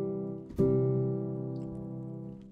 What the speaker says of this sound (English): Major chords sound like this.